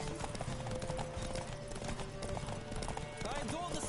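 Horse hooves clip-clop at a fast gallop during a race in The Witcher 3, a steady dense rhythm of hoofbeats with a brief whinny, mixed with game music and ambient sound throughout.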